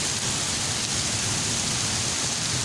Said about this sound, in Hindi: बिलाल बारिश इंजॉय कर रहे हैं बहुत ज़्यादा